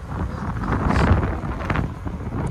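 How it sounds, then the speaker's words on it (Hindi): Strong wind buffets the microphone outdoors on a cloudy day during a road trip in Reasi, a steady low rumble with gusty swells and no talking. "हवा चल रही है ठीक ठाक तेज"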